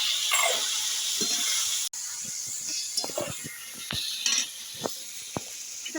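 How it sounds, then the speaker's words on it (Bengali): Wet paste of ground green chilli, black pepper and ginger sizzles and crackles in a pan with a little water as it is stirred, a steady hiss broken by scraping clicks from a utensil. "আর একটু জল দিয়ে মশলাটা ভালো করে কষিয়ে নেব।"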